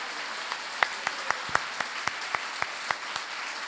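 Scattered claps from an audience at a Jain monk's discourse in Chhatrapati Nagar, Indore, coming as a dozen or so separate, sparse, fairly sharp claps rather than full applause, moderately close with no talk over them.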